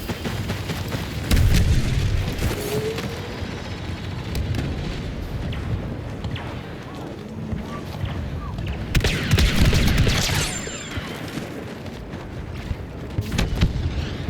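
Blaster gunfire and explosions in the video game Star Wars Battlefront 2 form a dense, continuous barrage of shots and booms with louder swells, while a voice talks intermittently over the combat.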